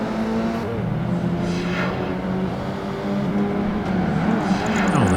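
A Lancia race car in the video game Project Gotham Racing 2, on a Yokohama circuit, drones continuously, its engine note sliding up and down with gear changes and passing cars over a busy, loud mix.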